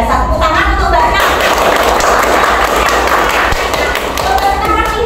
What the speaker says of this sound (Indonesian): Tepuk tangan untuk Mbak Ana.